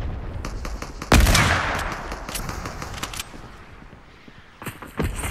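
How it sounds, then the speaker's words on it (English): Gunfire in a video game: a loud single shot followed by scattered rapid pops and bursts, some near and some distant, with no talking. "he's getting shot from the right. I'm getting shot from the right."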